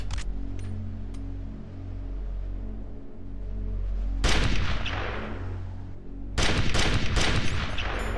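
Bursts of gunfire from Metal Gear Solid: The Twin Snakes on GameCube, aimed at a rat, come in two dense volleys over a steady game background hum, the second burst louder and sustained.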